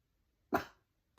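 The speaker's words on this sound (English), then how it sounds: "He would not stop barking." A single sharp, close dog bark indoors, one short loud burst followed by silence and the start of another sound at the very end.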